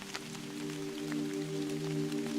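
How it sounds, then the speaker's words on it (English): Steady rain patters on leaves among the thick roots of a massive cedar, with scattered drips falling from leaf to leaf over a continuous soft wash of rainfall, moderately close and alone. "The only sound was the dripping of rain falling from leaf to leaf."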